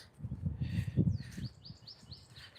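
Birds chirp and sing outdoors around midday, their high short calls scattered through the second half over a low rumble of footsteps and wind during a walk.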